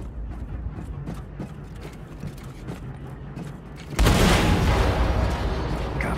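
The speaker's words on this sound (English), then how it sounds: "Achtung, Explosion in der Hangarbucht." A deep boom bursts out midway through a hangar bay explosion in Wolfenstein II, a loud blast and crackling roar following low rumbling game ambience.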